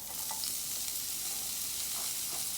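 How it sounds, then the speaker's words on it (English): Onions hit a little hot oil in a pan for a Guyanese-style bangamary fish stew, giving a steady, close broadband sizzle with faint stirring and no talk. "First of all, I'm adding my onions."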